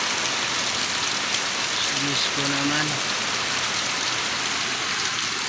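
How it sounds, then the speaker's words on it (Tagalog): Heavy rain pouring down outdoors at a flooded work site, a dense, loud, continuous hiss throughout, with a brief spoken phrase partway through. "Grabe ulan."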